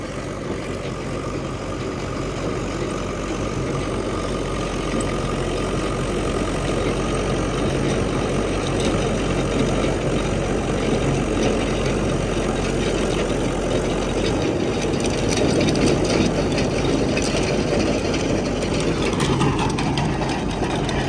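A KVB tractor-driven trenching machine runs steadily while digging a trench, its engine producing a loud, continuous, unvarying drone with dense mechanical rumble throughout and no voices.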